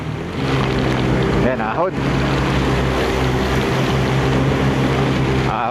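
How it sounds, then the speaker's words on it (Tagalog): Strong wind roars and buffets during an uphill road ride in Baguio City, a rough rushing noise over a steady engine drone, with a short dip midway and a voice calling out briefly. "Lakas na hangin."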